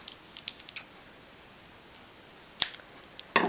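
Scissors snip through crochet yarn after finishing a rose pattern, with a few quick crisp clicks early on and a sharper cut near the end, close and fairly faint in a quiet room.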